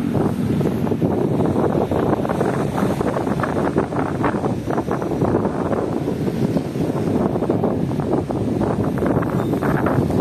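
Strong wind during a tropical storm at Dolomite Beach, a steady, loud roaring rush buffeting the microphone without pause, with a low rumble that may be surf underneath.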